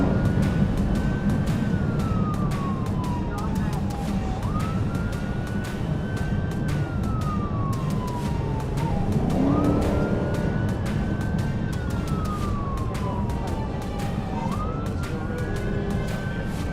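A police car siren wails continuously in slow rising and falling sweeps during a high-speed pursuit, loud and close over the rumble of the moving vehicle.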